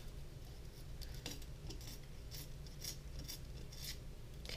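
Paper being torn by hand for homemade Halloween decorations, a series of close, crisp ripping bursts repeating irregularly over a steady low background hum.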